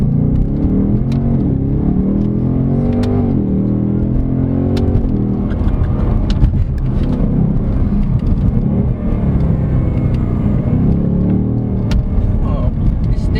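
A 2024 Ford Mustang GT V8 accelerates hard on a test drive, its deep engine rumble swelling and rising in pitch through the gears, heard from inside the car under continuous talk.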